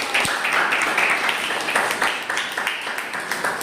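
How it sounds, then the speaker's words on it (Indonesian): A classroom of pupils gives a round of applause, dense hand clapping at steady moderate loudness throughout, with scattered sharper claps standing out. "tepuk tangan buat"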